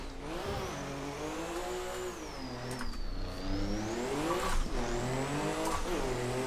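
A drift car engine in a driving video game, on the Irwindale track, revs and holds high, the pitch rising and falling steadily as the throttle changes, with faint tire squeal underneath and no talking.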